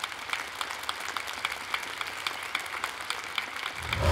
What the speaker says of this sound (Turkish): Hanımlar beyler, alkışlarınızla Kuzgun'u uğurluyoruz.